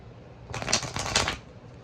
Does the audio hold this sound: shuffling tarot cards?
yes